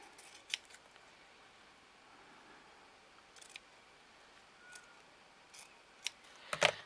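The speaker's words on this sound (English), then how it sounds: "all I'm going to do is to trim my book" A blade trims the edges of a miniature book made from magazine pages, giving scattered faint snips and crisp cutting clicks in a quiet room, with the sharpest cuts near the end.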